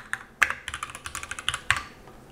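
Rapid keystrokes on a computer keyboard typing a terminal command, a quick irregular burst of light clicks heard close and alone.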